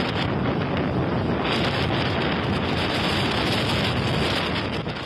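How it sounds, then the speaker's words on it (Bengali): Cyclone Sitrang lashing the Bangladesh coast with heavy rain and storm winds, a dense, loud, unbroken roar of wind buffeting the microphone alongside rushing rain. "মুষলধারে বৃষ্টিপাত আর ঝড় জলোচ্ছ্বাসে লণ্ডভণ্ড উপকূলীয় এলাকাগুলো।"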